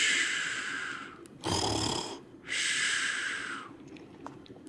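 A loud snoring sound read aloud from the children's picture book Stop Snoring Bernard: two long, drawn-out breathy snores, each a rasping rush lasting about a second, close and prominent, with a brief snorting burst between them. A human voice imitates the snoring.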